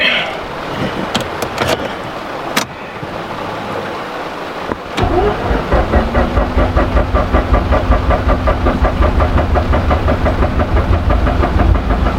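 A Mazda RX8's 13B rotary engine with rotary issues and trouble revving runs at a rough, pulsing idle, loud and close. It follows a few seconds of clattering and knocks.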